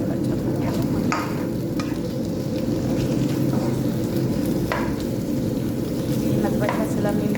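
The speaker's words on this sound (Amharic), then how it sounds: "ቃሪያ ጨመርኩት። አብሬ ስጋውን አሸዋለሁ።" Meat sizzles in a frying pan with chili while a utensil stirs it during Ethiopian home cooking. The frying hiss is continuous and close, broken by repeated scraping stirs.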